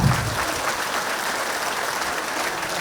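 Dense, steady applause from a rally audience at Charminar, many hands clapping together and filling the whole stretch at an even, loud level.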